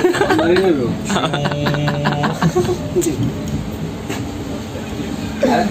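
A passenger train on the Mumbai to Ajmer route runs along the rails with a steady, close rumble and rattle of the carriage throughout, while voices talk over it.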